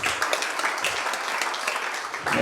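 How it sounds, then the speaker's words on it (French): Congregation clapping together at a French-language Protestant church service, a dense, steady patter of many hands that holds level for a couple of seconds and swells slightly at the end. "Est-ce qu'on peut les applaudir?"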